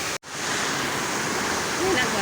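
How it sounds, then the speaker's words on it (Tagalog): Dense, steady rushing noise like heavy rain pouring down, loud and continuous, with a brief dropout near the start. "napakalakas ng ulan ngayon"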